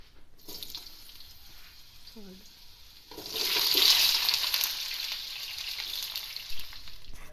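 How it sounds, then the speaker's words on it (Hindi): Potatoes fry in hot oil, the sizzle swelling into a loud, steady crackling hiss after a quieter start, close by with a brief voice early on. "अब हम आलू फ्राई करते हैं।"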